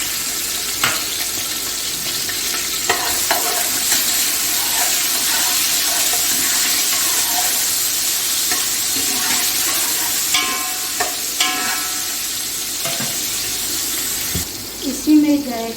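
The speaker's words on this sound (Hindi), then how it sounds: "थोड़ा सा फ्राई करूँगी। इसी में डालूंगी अदरक और लहसुन 2 टेबलस्पून कुटा हुआ।" Crushed ginger and garlic frying in a pot while cooking namkeen gosht, a steady broadband sizzle running throughout with occasional clinks and stirring knocks from utensils.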